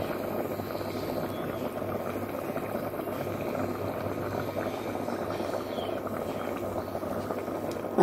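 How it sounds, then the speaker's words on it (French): A mixed bouillon simmers gently in a covered pot, giving a soft, continuous bubbling rumble that stays steady and fairly quiet, with a small knock at the end. "Ils sont en train de cuire calmement."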